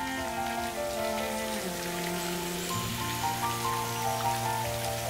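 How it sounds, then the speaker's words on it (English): Steady rain patters on a surface in a soft, even hiss, with faint music playing underneath throughout. "Raindrops."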